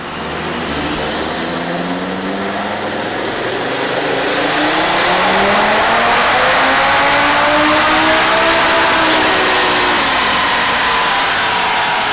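An Audi RS3 tuned by TTE777 runs a front-wheel-drive pull on a dyno, the engine roaring loud and steady as its pitch climbs through the revs, then easing slightly near the end, with no talking.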